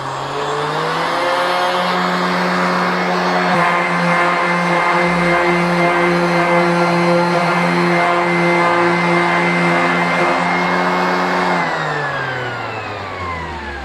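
A RIDGID wireless orbital sander running at speed setting 6, a loud, steady motor whine with a strong tonal hum held close for most of the stretch, ramping up at the start and winding down near the end, with no talk.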